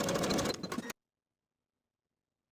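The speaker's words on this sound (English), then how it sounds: "I'm going to sew from the raw edge straight downward for a length of about 1 1/4 inches" A sewing machine stitches down pleats in blouse fabric in a short, steady mechanical burst of under a second, then stops and leaves silence.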